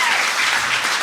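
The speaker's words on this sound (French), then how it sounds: "est-ce qu'on peut l'applaudir, s'il vous plaît?" Brief burst of live audience applause for a guest on a comedy podcast, a loud, dense crackle of clapping filling the short moment.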